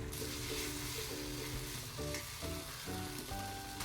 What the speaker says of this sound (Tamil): இந்த மாதிரி கலந்து கலந்து விட்டோம்னா ப்ரான் தொக்கு நல்லா ரெடி ஆகிடும்